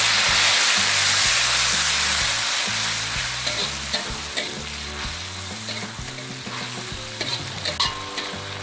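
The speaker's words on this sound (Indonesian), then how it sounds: "Kita goreng cabai yang sudah kita giling." Ground chili paste sizzles and spits in hot oil, with occasional stirring scrapes and light clinks, loud and close over soft background music.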